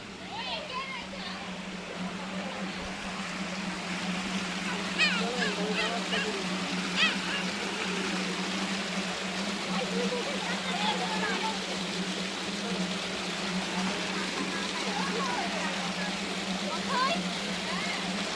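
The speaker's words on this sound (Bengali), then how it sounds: "পার্কে সামনে একটি ঝর্ণা আছে।" Park fountain water splashing steadily into a pond at Johan Dream Valley Park in Jhenaidah, a continuous broadband wash running throughout with a low hum beneath and distant voices of people, including children, in the background.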